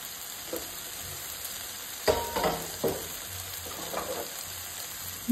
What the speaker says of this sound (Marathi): फ्राय केल्ली सुंगटां जी आसा पळय न्हू ती हांव आतां हितून घालून घेता। मिक्स करून घेवया